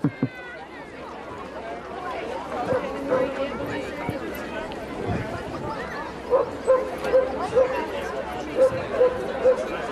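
Dogs barking at a dog show, several sharp barks and yips in bursts, mostly in the second half, over crowd chatter and a talking announcer.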